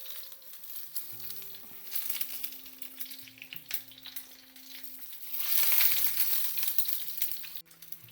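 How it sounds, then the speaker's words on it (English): Stuffed tomatoes fry in a pan with a steady, close crackling sizzle that swells louder midway, with faint tonal beeps in the background. "fry this all around, like keep an eye on it, don't let it burn"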